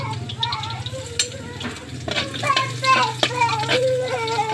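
Ginger frying in a hot pan over high heat, with steady sizzling and clinks of stirring, close by and alone with no talk.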